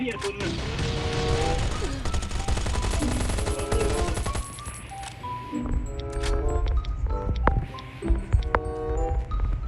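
Gunfire in the survival video game Last Day Rules: Survival, rapid bursts of shots mixed with crashes and game effects, loud and dense throughout, with people talking in Thai over the action.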